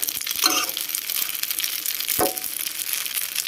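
Bitter melon with egg and glass noodles being stir-fried in a pan: a steady, close sizzle with scraping and clicking spatula strokes scattered through it.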